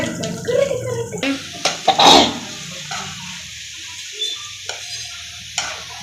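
Snake gourd chilli sizzles in a pan as it is stirred, with loud scraping strokes near the start, then a softer, steady frying hiss with occasional clinks and no talk.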